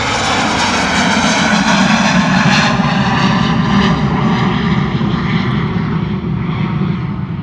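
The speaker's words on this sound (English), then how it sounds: "Love the rumble of that beautiful little Falcon" A Dassault Falcon business jet takes off down the runway at London Luton Airport, its engines a loud, continuous rumbling roar that holds steady throughout, close and unbroken.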